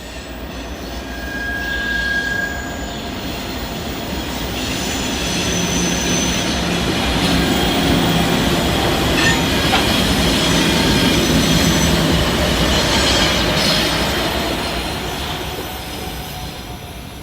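Freight train rolling past the former Southern Railway depot in Old Fort, North Carolina, loud and close, a steady rumble of wagons with high metallic wheel squeal building toward the middle and then fading slightly.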